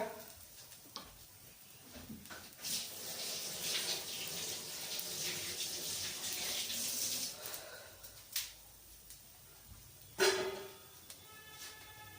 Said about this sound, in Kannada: ಕೈ ತೊಳ್ಕೊಂಡು ಬರ್ತೀನಿ ಒಂದು ನಿಮಿಷ